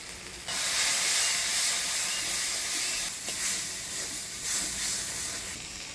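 A splash of water hits frying spice paste with tomato and turmeric, setting off a sudden loud hiss of steam and sizzle that lingers and slowly eases.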